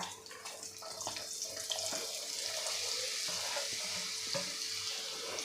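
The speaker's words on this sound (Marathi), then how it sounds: "त्यानंतर यामध्ये घालायची आहे आपल्याला ही वाटलेली शिजवलेली डाळ" Ground cooked dal for a spicy Ganpati festival tikhat vatli dal goes into a hot pan and is stir-fried, producing a soft steady sizzle with intermittent scraping and tapping of a spoon; faint overall, no voices.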